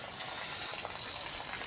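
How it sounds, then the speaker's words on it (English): Water flows steadily through a wort chiller while beer is being brewed, a soft, continuous gushing hiss with no talking. "we got the water flowing here"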